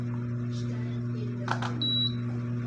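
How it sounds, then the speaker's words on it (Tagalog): A single short, high-pitched electronic beep from an electric fan's remote receiver sounds over a steady low electrical hum, with a brief click just before it. "Yan, tumunog siya. Narinig yun guys, yung beep."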